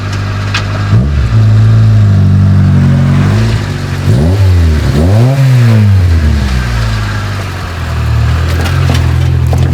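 A Honda Civic fitted with a mechanical blow-off valve revs hard and close, its engine note rising and falling in several sweeping surges between a loud steady drone, with no talk.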